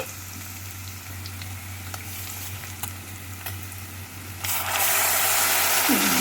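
Tomato paste frying in a pan gives a steady sizzle with occasional light stirring clicks, the hiss swelling louder and brighter toward the end.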